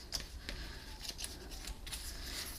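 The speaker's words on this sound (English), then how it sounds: "So now we need to fold this piece along all the score lines." Card stock is folded by hand along score lines, giving a few faint, close crinkles and creases over a quiet background, with no talk.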